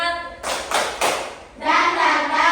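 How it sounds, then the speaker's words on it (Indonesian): A classroom group performs a rhythmic spirit clap, with a few loud, closely spaced claps followed by voices chanting together in unison. "kita tepuk semangat dulu"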